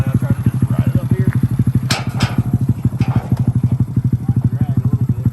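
A Honda Grom motorcycle engine thumps in a fast, regular low pulse as the bike is ridden up a small grade, loud and close, with brief rattles and speech mixed in.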